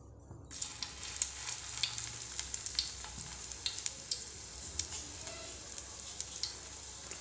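Spinach and lentil dal fritters fry in oil, giving a continuous close sizzle dotted with frequent sharp pops and crackles at a moderate level, without any speech.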